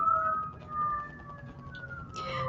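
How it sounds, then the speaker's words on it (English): A wailing emergency siren rises and falls in a long glide, fairly faint and distant, sounding steadily for the whole stretch with no voices over it. "So right now our partner is hearing sirens"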